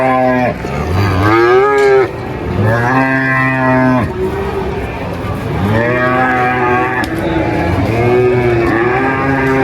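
Jumbo beef cattle at the Gerabak livestock market in the morning give repeated loud, drawn-out moos, several overlapping calls in succession amid busy market background noise.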